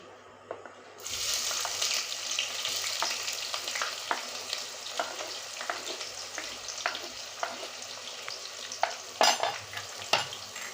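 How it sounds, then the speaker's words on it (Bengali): Chopped onions hit hot oil in a pan for chicken curry, setting off a steady loud sizzle with scattered pops and crackles, stirred now and then, and no talking. "এখন আমি এই কুচানো পেঁয়াজটা দিয়ে দিচ্ছি"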